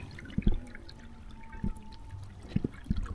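Water pours and trickles steadily through the first irrigation of an onion seedbed, with a constant flowing wash and occasional soft splashes and thumps close by.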